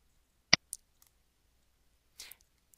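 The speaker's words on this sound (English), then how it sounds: "simply click on the Copy button" Two sharp, close computer mouse clicks sound a moment apart in near silence, followed later by a softer rustling tick.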